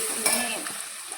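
Hot oil crackles and sizzles with quick little pops, a short, close burst of fenugreek seeds spluttering in a pan of oil used for frying beef.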